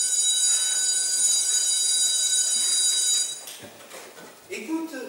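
A school bell rings steadily and loudly for about three seconds during a stage play, then stops, leaving background chatter and voices.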